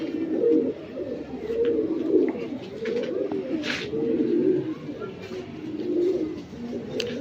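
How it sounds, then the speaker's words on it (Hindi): Lohkande pigeons coo continuously in low, rolling murmurs, several birds close by, with a brief rustle partway through. "ये प्योर लोखंडे कबूतर है"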